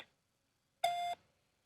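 Single short voicemail beep on a phone line, a clear steady electronic tone lasting about a third of a second after a brief silence.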